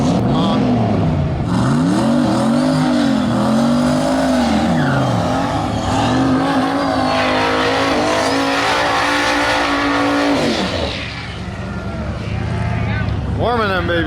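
A car engine revs loudly and repeatedly, pitch sweeping up and down in surges, with a brief dip near the end before roaring again.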